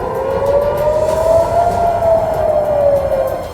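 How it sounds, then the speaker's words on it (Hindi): An air raid warning siren wails over Tel Aviv amid the Israel–Hamas war, a loud sustained tone rising slowly and gently falling again, steady and unbroken for the whole stretch. "वहां हमलों की चेतावनी के सायरन बजने लगे"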